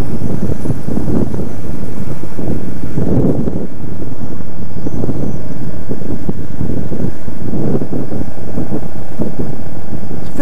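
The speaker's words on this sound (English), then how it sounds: "how much wind noise I get on this bike, because it's more open than poor old Ruby with its tall screen" Steady, loud wind buffeting from riding a 2009 Kawasaki 650RL motorcycle with an open, unscreened front on a windy day, a continuous low roar that swells and eases in gusts throughout.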